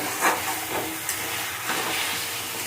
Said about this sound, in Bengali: ভালো রকম কষিয়ে নেব আমি ভালো রকম কষিয়ে নেব